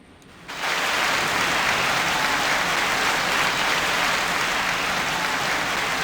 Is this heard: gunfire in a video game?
no